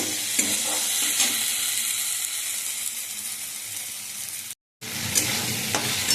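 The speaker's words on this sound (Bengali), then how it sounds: "এভাবে আমি আলুটা আগে ভালো করে কষিয়ে নেব।" Potatoes fry with spices in a pan, a loud, close sizzle with rhythmic stirring scrapes, briefly cut to silence near the end before the sizzling resumes.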